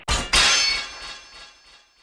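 A video-game sword clangs and breaks, two sharp metallic strikes in quick succession followed by a bright ringing decay that fades over about two seconds.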